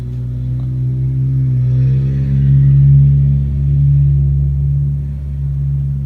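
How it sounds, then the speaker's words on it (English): A loud, rough car engine with no exhaust fitted rumbles steadily with deep low harmonics, revving slightly up and down, close by and with no voices. "put an exhaust in your car. Sounds like ass!"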